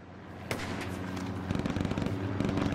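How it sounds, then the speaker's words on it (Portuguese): MG-42 machine gun fire in a hardcore first-person shooter game: a sharp blast, then rapid rattling bursts that grow denser, loud and close, with no talk. "Vou aproveitar a supressão que o Pixel tá dando aqui pra gente, com o MG-42"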